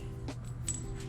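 Metal bolts from a Honda D16 engine teardown clink together as they are handled in a garage: two or three faint, brief metallic taps, the second with a short ringing tone, over a quiet steady hum.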